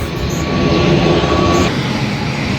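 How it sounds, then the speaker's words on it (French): A propeller airplane drones overhead, a steady, loud rumble that fills the whole moment with no talking. "Il y a un avion qui passe là."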